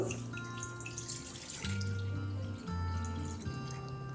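Cool water is poured into a bowl in a home kitchen while preparing KFC-style fried chicken. It makes a soft, continuous splashing stream, fairly faint, under steady background music.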